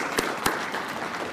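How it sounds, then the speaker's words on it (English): Brief applause at an awards dinner, a steady wash of clapping with a couple of sharper claps standing out over a second or so. "So give ourselves a round of applause for making it to 5 years."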